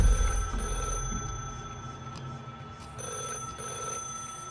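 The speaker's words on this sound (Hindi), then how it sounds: "एक लैंडलाइन के बजने की घंटी सुनाई दी जो उसी स्टोर रूम से आ रही थी" An old-fashioned landline telephone bell rings in two bursts from a store room, fairly loud and nearby, with a pause between rings.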